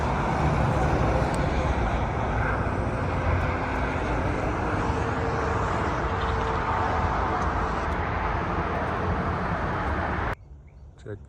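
Interstate 81 traffic rushes past in a steady, loud wash of tyre and engine noise, vehicles blending into one continuous roar before cutting off abruptly near the end; no one speaks.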